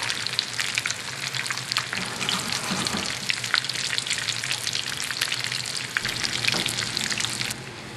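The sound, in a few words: clam fritters frying in a 10-inch skillet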